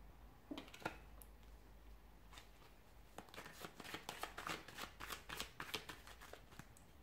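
Tarot cards being shuffled in a steady run of crisp riffling and flicking bursts, quiet and close, with no talking over them.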